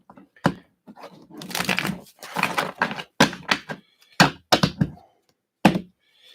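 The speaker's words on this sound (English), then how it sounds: "We're going to shuffle this too." A tarot card deck being shuffled by hand, with a run of crisp riffling and card-slapping bursts, some longer rustling stretches and several short sharp taps, close and fairly loud with quiet gaps between.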